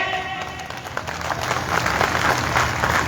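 Audience at a political speech in Neem Ka Thana clapping together, a sustained burst of applause that builds slightly and stays dense and fairly close throughout.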